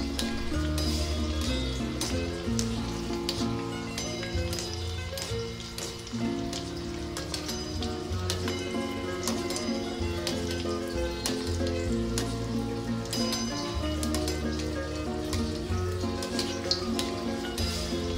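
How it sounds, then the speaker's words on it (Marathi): Kachoris deep fry in hot oil, a dense, continuous crackling sizzle with fine popping bubbles throughout, close and steady without talk. "आता तयार झालेल्या या कचोऱ्या तापलेल्या तेलात डीप फ्राय करा।"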